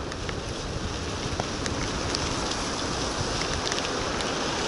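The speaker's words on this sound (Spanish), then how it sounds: "la lluvia ha empezado" Rain begins falling along a rural mountain route between Canta, Lachaqui and Comas in Peru, a dense, unbroken wash of noise with a low rumble beneath it that holds steady throughout.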